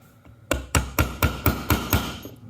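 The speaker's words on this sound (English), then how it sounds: "I always start them with the plastic side of my hammer" A hammer taps roll pins into a CZ P-09 pistol frame seven times in a steady rhythm, each tap sharp and ringing briefly, close by with quiet background.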